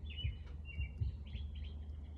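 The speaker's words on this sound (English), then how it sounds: "But that bird going off, it made me think about something in nature." A bird calls outdoors in a few short chirping phrases, faint and moderately distant, over a low rumbling background.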